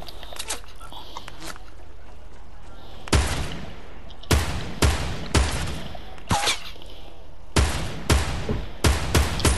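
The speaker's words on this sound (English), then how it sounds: "that guy's just shooting me when I'm doing my intro" Bursts of gunfire from the Apex Legends video game, a series of sharp, loud shots in clusters, some rapid and overlapping, over quiet ambient background.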